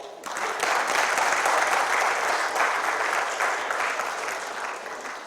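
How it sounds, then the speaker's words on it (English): Conference audience at INFOCOM 2022 gives a big round of applause, a sustained dense clapping that swells quickly, holds for several seconds and tapers slightly, with no talk over it. "please give me a huge round of applause."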